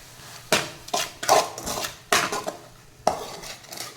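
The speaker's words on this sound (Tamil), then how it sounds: "மஞ்சள் தூள் ஆட் பண்ணி இதை நல்லா கிளறி விட்டுக்கோங்க." Prawn gravy with turmeric stirred in a pan, a spoon scraping and clanking against the metal in irregular strokes, close and fairly loud with no talk.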